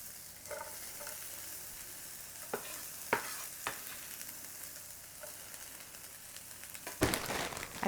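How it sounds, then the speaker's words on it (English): Onion dropped into a hot Presto electric skillet, a steady soft sizzle with a few crinkly clicks and stirring scrapes, ending in a louder burst of frying. "Just going to go ahead and put our onion in."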